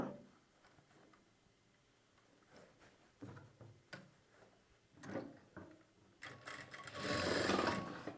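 A sewing machine stitches a folded pocket seam on a churidar bottom, starting with quiet intermittent ticks and short bursts, then building into a louder continuous run of stitching toward the end.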